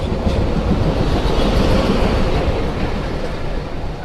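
A passenger train bound for Bhanga, running from Faridpur, rolls past close by with a loud, continuous rumble and rattling wheel clatter that holds steady throughout.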